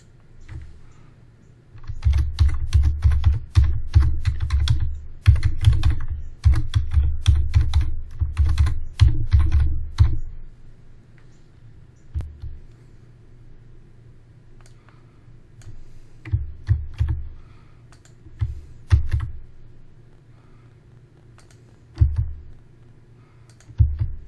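Typing on a computer keyboard while entering a name into a cloud secrets form: dense bursts of close, crisp key clicks for the first ten seconds, then sparser clusters of keystrokes and a few isolated taps with short pauses.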